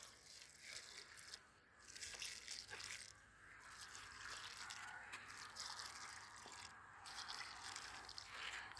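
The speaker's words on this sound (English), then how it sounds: "I'm going to just go ahead like this and water the soil in" Water poured from a bucket onto soil around freshly transplanted lettuce, a steady outdoor splashing and trickling with brief pauses, fairly faint and alone.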